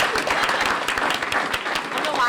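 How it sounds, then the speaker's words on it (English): A panel audience claps for a speaker, a brief burst of dense, fairly close applause that stays loud and even across its short span. "I don't know why I'm clapping"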